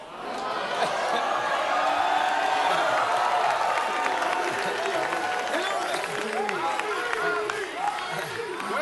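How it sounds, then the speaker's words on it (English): A large crowd at a boxing event for Muhammad Ali roars and cheers in a dense, sustained wash of voices with rhythmic chanting, loud and continuous throughout. "And the crowd saying Ali."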